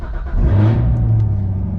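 A 2019 Chevrolet Corvette ZR1 running its stock exhaust fires up cold, a loud, close engine catching and holding a steady rumbling rev.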